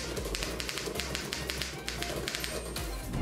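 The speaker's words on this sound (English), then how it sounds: "Some people just love the old clickety-clack sound" A typewriter's keys clack in quick, uneven bursts of sharp, close taps that run steadily over about three seconds, with no voices.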